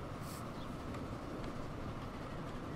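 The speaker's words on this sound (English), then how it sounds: "Nice little steam train there." Steam train running in the video game Transport Fever 2, a steady broadband rumble and hiss of the locomotive and rolling stock, continuous and fairly even throughout without pauses.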